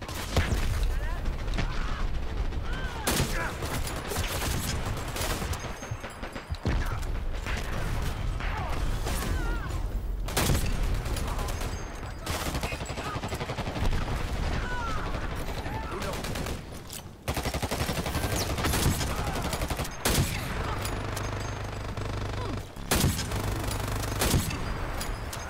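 Automated turret machine gun in the shooter game Dirty Bomb, sustained rapid bursts of gunfire with short pauses, loud and close, mixed with mechanical clatter and occasional speech.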